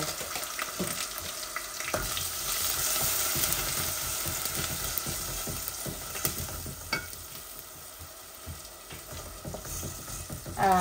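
Blended onion paste fries in a pan with a dense, steady sizzle up close, broken by repeated stirring scrapes and clicks, without any talking over it.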